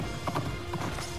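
Hooves of the horse Epona clip-clop in Hyrule Warriors on Wii U, a few quick game-style hoof steps over a steady musical tone, fairly clear and up close with no talk.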